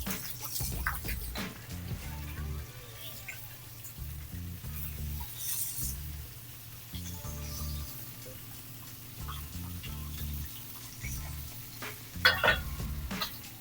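A steady sizzle of fish frying skin side down in a hot pan, with occasional clinks and stirring sounds, continuous and fairly close.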